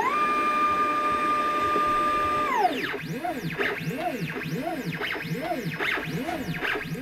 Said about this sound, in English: The noise you can hear are the stepper motors whirling and whining as they turn the ball screws